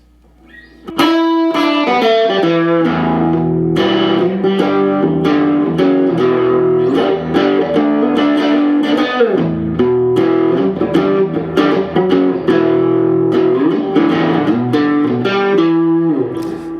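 A distorted electric guitar plays parts of a riff, with chords and single-note runs, loud and steady after a brief quiet start, with no voices.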